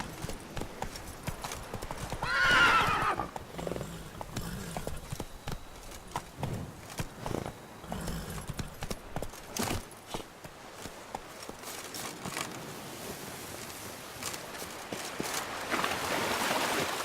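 Horse hooves clip-clop steadily in the video game Witcher 3, a continuous trotting rhythm close up, with a brief whinny near the start and faint ambient background.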